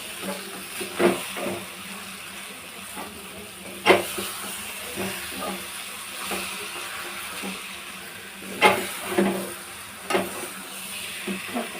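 Cooked beans mixed into a sizzling tempering, a low steady hiss broken by recurring scrapes and clatters of a spoon stirring the pan.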